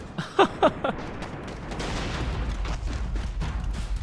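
Gunfire in the AVA online shooter as a full magazine is emptied, a few sharp shots at the start followed by dense sustained rattling bursts under a game soundscape.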